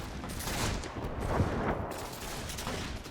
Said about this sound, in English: Our artillery shots are landing.